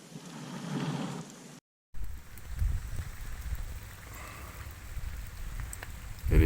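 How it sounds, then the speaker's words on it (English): Light rain sprinkles outdoors on Monkey Mountain in Da Nang, a soft, steady pattering hiss that cuts out briefly, then returns with low buffeting. "It is sprinkling."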